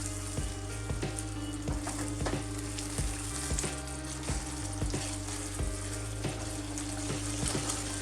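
Onion and spice paste sizzles steadily in a pan with a little water over medium heat while paneer masala cooks. The continuous frying hiss holds close with periodic stirring scrapes, and no one speaks.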